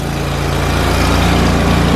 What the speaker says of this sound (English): A Cub Cadet GT 2550 heavy duty cold start.